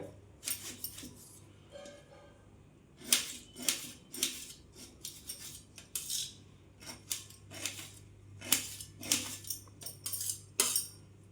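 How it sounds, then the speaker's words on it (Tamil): A citron is diced into small pieces with a knife, making close, irregular clicks and taps against the board in short clustered bursts with quiet gaps between. "நல்லா பொடியை குட்டி குட்டியாக கட் பண்ணிக்கோங்க"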